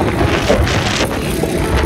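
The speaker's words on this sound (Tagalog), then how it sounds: "May malakas po ng hangin." Strong typhoon wind in Bicol buffets the microphone in a steady, rough roar, with gusty rumbling throughout and no voices.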